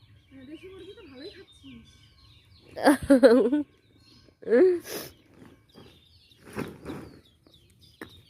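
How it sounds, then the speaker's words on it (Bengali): Indigenous desi chickens cluck in short bursts scattered through the scene, close by, with brief squawks and pauses between them. "দেশি মুরগি"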